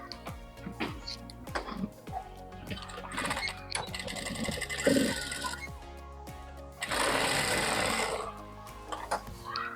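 A sewing machine stitches a fabric strip onto a lehenga in rapid, close mechanical ticking runs, pausing briefly and then resuming with a louder, faster burst, with faint handling sounds between.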